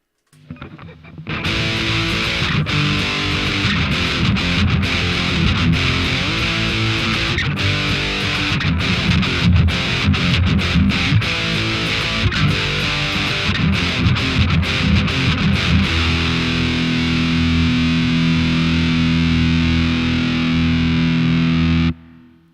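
Loud electric guitar riff through a distortion effect plays continuously for over twenty seconds, thick and sustained, ending on a held chord.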